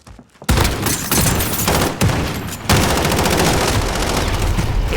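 Rapid automatic rifle fire rattles in a shooter video game, loud sustained bursts that break off briefly near the start and again around the middle before resuming in dense, continuous fire.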